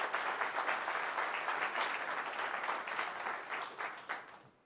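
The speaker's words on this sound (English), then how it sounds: "So let's give a round of applause to GM." An audience at a security conference session gives a round of applause, a dense, even patter of many hands clapping that holds steady and then tapers away at the end.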